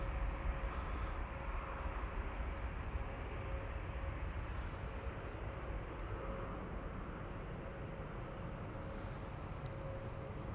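A passenger airplane takes off at Amsterdam Schiphol Airport, heard as a faint, distant, steady engine roar that holds evenly throughout with a thin high whine riding above it.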